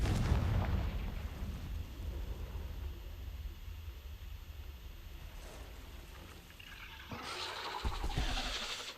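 A Confringo blasting spell explodes in a Hogwarts video game: a heavy boom opens, then a long, loud rumbling roar trails off, with a brighter crackling burst near the end.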